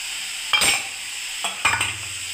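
Ginger paste fries in a pan with a steady close sizzle, broken by two short scraping stirs of a spoon.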